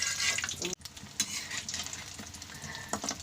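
Gram flour battered fritters frying in oil in a home kitchen give a busy, steady sizzle and bubbling with occasional soft stirring clatter and a brief dip early on, nearby and moderately loud.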